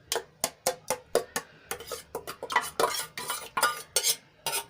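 A spoon scrapes and clanks against a metal pressure cooker in a quick, repeated rhythm as mashed potato is stirred, close up and without talk.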